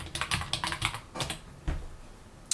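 Rapid keystrokes on a computer keyboard, a quick irregular burst of clicks that pauses and resumes, close and fairly loud with no voices.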